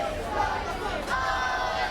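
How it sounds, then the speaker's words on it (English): A wrestling crowd sings a chant for wrestler David Francisco at a UKPW match, a dense rolling mass of voices filling the arena, loud and continuous with a few stronger swells. "And the crowd here singing their famous Francisco song."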